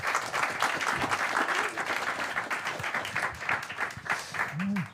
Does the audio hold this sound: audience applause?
yes